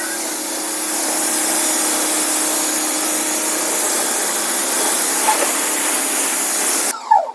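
A 4000 PSI pressure washer runs continuously with a loud, steady hissing roar for about seven seconds, then cuts off abruptly, followed by a brief handling clatter.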